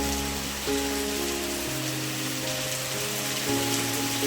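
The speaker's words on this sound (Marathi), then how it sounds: "पावसाने जोरदार सुरुवात केली" Heavy monsoon rain pours steadily outdoors in the countryside, a dense, continuous wash of hiss with no voices, while steady tones run underneath.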